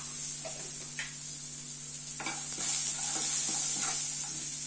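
Peanuts with a pinch of asafoetida are stirred in a hot pan, giving a faint continuous sizzle with scattered light scraping and clicking of the spoon, close and steady.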